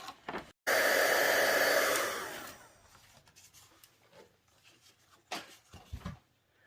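A heat tool blows loudly for about a second and a half, drying a colour-spritzed card, then cuts out, followed by faint handling sounds and soft knocks.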